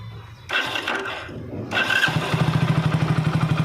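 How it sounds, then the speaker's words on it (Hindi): A BS6 Hero HF Deluxe motorcycle engine cranks and catches, then settles into a steady, loud, close idle with a rapid, even putter. "और अब मैं करता हूँ बाइक को स्टार्ट।"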